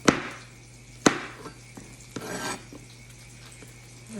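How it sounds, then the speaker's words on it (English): A knife dices vegetables on a cutting board for a casserole, giving a few sharp, close chops spaced about a second apart, followed by softer scraping and handling noises, with no talking. "And these are just going to be diced."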